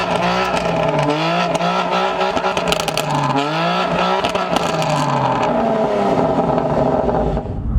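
BMW M2 Competition with its S55 engine driving hard: loud, close revving with rising and falling pitch sweeps as it accelerates and shifts, a brief tire squeal possible, no talk.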